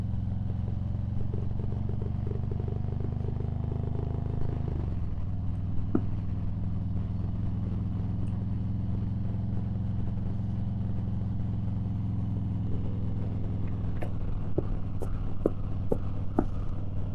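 A Harley-Davidson Low Rider S with a newly installed Bung King exhaust on a long ride on a cool day, its engine holding a steady low drone under wind, with a few faint clicks and taps near the end.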